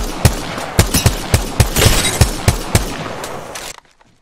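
Rapid bursts of gunfire from the video game Apex Legends as a player shoots at training dummies, sharp shots in an uneven rhythm, loud and close, then cutting to silence near the end.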